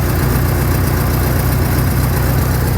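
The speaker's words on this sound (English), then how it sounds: "it's actually leaning the fuck out every time I hit the throttle" A Mitsubishi Lancer engine with a fuel problem that makes it run lean under throttle drones loud and steady up close, a dense continuous roar with no clear rise or fall.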